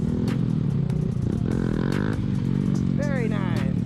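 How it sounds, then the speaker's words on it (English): A small stunt-practice motorcycle's engine revs hard and close, a dense roar that rises and falls in pitch as the throttle is blipped, with faint clatter and scraping underneath. "Very nice. I like the revs."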